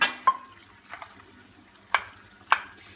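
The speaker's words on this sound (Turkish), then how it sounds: "Şimdi iyice karıştıralım" A spoon stirring curry-sauce pasta in a pan comes through as a few soft, scattered scrapes and clinks, spaced irregularly over quiet kitchen background, close and fairly faint.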